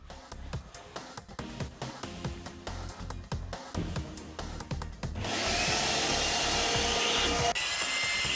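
Wet vac cleaning a car's driver seat: a series of close scrubbing and rubbing strokes, then the vacuum motor kicks in with a loud, steady roaring suction that continues to the end.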